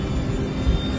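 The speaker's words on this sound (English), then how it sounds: "Takeoff thrust set." Sriwijaya Air jet airliner engines spooling at takeoff thrust, a steady loud broadband roar with deep low rumble, continuous and close without any voices.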